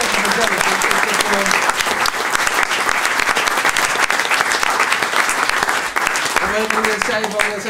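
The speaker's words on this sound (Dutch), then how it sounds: "Dames en heren, mag ik een applaus voor Hugo Luiten" Loud, sustained applause from a studio audience on a Dutch-language television show runs the whole length, with a voice briefly speaking over it near the start and again near the end.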